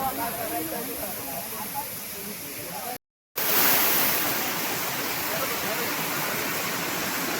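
Water rushes loudly and steadily at the Garambi dam waterfall in Konkan, a dense roar broken by one brief dropout.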